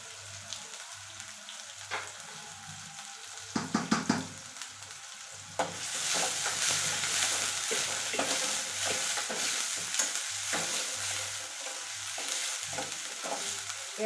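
Two onions hit a pan with curry leaves and start frying; intermittent scraping stirs come first, then a louder continuous sizzle takes over, with repeated spoon strokes through it.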